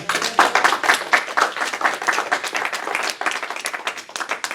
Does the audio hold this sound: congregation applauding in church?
yes